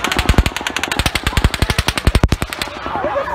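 Rapid automatic gunfire at an outdoor country music concert, a long loud burst of evenly spaced shots lasting about two and a half seconds before cutting off, with faint background noise after.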